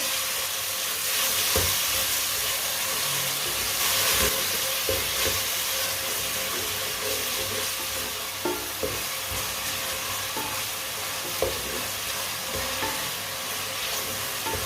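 Tomatoes and green chilies frying in a pan with garlic, a steady dense sizzle and hiss running throughout with occasional soft stirring clinks, close and continuous with no talking.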